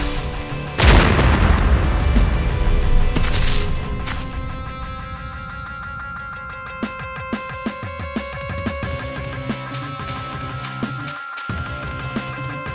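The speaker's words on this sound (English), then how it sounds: "Run toward the explosion." A loud explosion booms in an animated episode, a sharp blast followed by a long rumbling tail that fades into sustained ringing, humming tones and scattered clicks.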